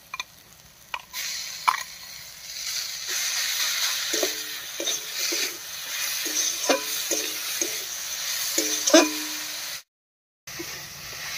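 Grated bitter gourd sizzles in a pan with fried onion, garlic and green chilli for bitter gourd pakoras, a soft steady frying hiss broken by scattered clicks and scrapes of stirring, with a brief silent gap near the end.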